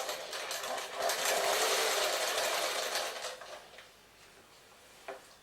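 A sewing machine stitches a chudidhar neck onto canvas in one steady, loud, close burst of rapid whirring lasting a few seconds, then slows and stops, followed by a quiet pause and a single small click.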